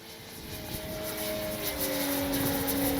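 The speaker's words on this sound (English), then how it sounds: "Man, what a big plane." A Hangar 9 20cc Valiant RC plane on its maiden flight on a windy day drones overhead, its engine tone rising steadily and growing louder over a few seconds as it passes, with wind noise beneath.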